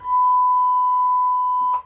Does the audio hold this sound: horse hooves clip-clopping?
no